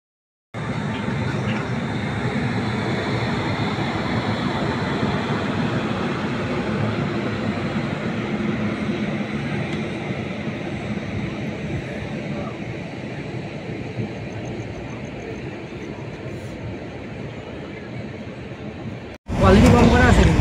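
Balurghat–Sealdah Express running flat out at about 110 km/h: a steady, loud rumbling roar of wheels and carriage that holds for nearly twenty seconds, then jumps into a harsher, louder burst at the end.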